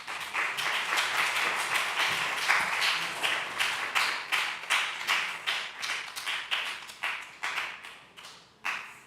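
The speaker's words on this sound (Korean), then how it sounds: "앞으로 나와서 특별 광고 했을 때 박수로 맞아주세요." A young adults' congregation at a Sunday church service applauds steadily and fairly close, with many distinct hand claps forming a continuous patter that thins toward the end.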